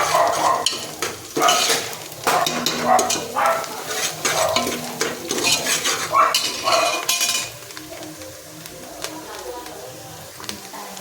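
Food sizzles in a pan at home during chicken biryani cooking, with loud, close scraping and stirring strokes and clinks of the utensil over the sizzle; the stirring fades at the end and only soft frying remains.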